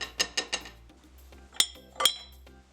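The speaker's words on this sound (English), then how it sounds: "We have some cold ice water going here, and it's very cold. And we have some ice cubes in there as well." Ice cubes in a bowl of very cold water clink sharply in the kitchen: three quick close knocks, a pause, then two brighter chimes.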